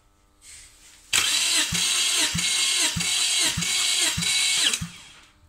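A 2007 Subaru Tribeca's 3-litre EZ30 engine cranks over on the starter during a compression test on the first cylinder, a loud rhythmic churning with about seven even compression pulses after a brief whir, then stopping.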